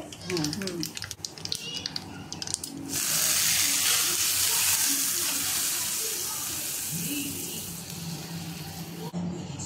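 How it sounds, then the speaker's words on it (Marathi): Cumin, mustard seeds and asafoetida drop into hot oil and burst into a loud, steady sizzle, preceded by someone speaking over quieter kitchen sounds. "तेल गरम करून घेतलंय, याच्यामध्ये मी जिरं टाकते आणि थोडीशी मोहरी टाकते, हिंग टाकते."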